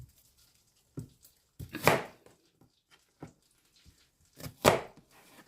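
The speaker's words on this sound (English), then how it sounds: "Just gonna chop up a little bit of onion, just for some flavor." Onion being chopped with a knife in a home kitchen: a few sparse, sharp cuts against a board, separated by pauses, close and fairly quiet.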